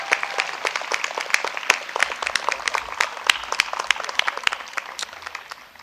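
A convocation audience applauds the faculty, a full crowd clapping loudly and steadily, the sound gradually thinning toward the end.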